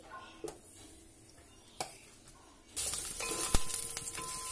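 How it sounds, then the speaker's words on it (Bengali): Chunks of pumpkin and other vegetables frying in a pot for bhog khichuri: a few isolated clinks at first, then a brighter, louder sizzle takes over midway with scattered utensil taps, close and without talk. "আমি যে যে সবজিগুলো নিয়েছি তা একটু করে ভেজে নেব"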